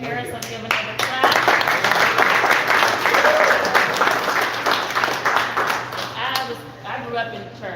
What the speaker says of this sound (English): I'll give another clap.